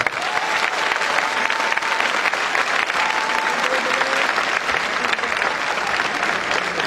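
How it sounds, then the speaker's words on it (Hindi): An audience in Talkatora Stadium, New Delhi, breaks into dense, sustained applause. Many hands clap together in a loud, steady wash that fills the whole stretch without pause. "एक बार अपनी प्रेजेंट छोटा तालियों के साथ दिखा दो।"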